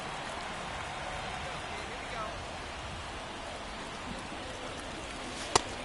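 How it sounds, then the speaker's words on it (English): Steady rain falls on a baseball field in the video game MLB The Show 24. The even hiss runs without a break, with one sharp click near the end. "This rain is not letting up."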